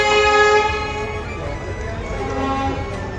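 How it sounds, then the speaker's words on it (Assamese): A passenger train arriving at Kamakhya station from Guwahati, with a steady, sustained horn tone held over the rumble of the platform. "এতিয়া ট্ৰেইনখন আহিলে গুৱাহাটীৰ পৰা"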